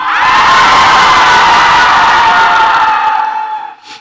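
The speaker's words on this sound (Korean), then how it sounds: "우리 주님 사랑하는 만큼 주님께 함성!" A church congregation at a stewardship seminar lets out a loud sustained shout and cheer, a massed roar of voices that holds steady, then fades away near the end.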